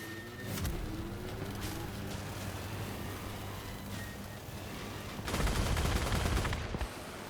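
Vehicle-mounted guns fire during a battle in the video game Crossout, with a few sharp shots early and a louder, longer burst near the end over a continuous engine drone and no talking.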